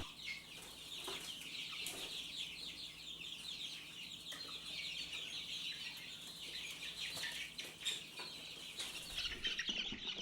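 Young chickens packed shoulder to shoulder inside a cooler, carried from the brooder to the coop, chirp and cluck steadily and close by, a dense continuous chatter with a few louder peeps and knocks near the end.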